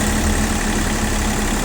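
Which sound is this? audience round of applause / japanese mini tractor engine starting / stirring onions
japanese mini tractor engine starting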